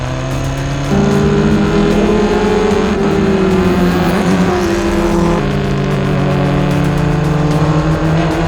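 A race car laps a race track, its engine droning steadily and loudly with shifting pitch as it accelerates and holds speed, close and continuous with no talk.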